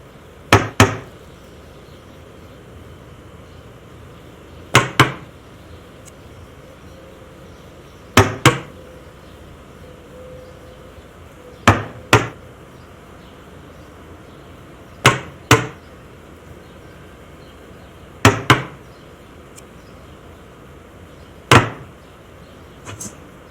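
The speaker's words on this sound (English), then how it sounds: "Nail down the 2x4 in the places indicated." Hammer driving nails into a 2x4 header, sharp wooden strikes arriving in pairs and triples, about a dozen blows in clusters spaced several seconds apart, with quiet gaps between.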